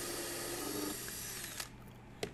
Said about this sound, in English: And we'll drill with a little bit of countersink